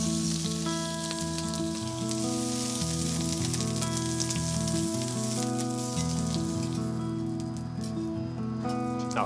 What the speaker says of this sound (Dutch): En dan ga ik nog even die zeesla bakken.